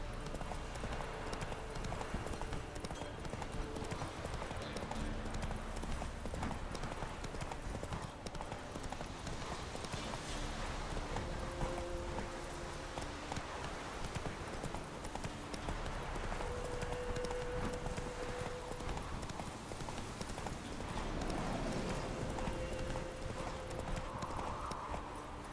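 Horse hooves clip-clop at a steady gallop in The Witcher 3, running continuously under game music with a few whinnies and faint voices in the background.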